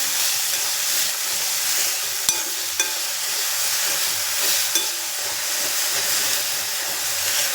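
Banana flower fries with salt in a pan, a loud steady hiss and sizzle with a few sharp clicks of a spoon stirring through it, close up and without speech.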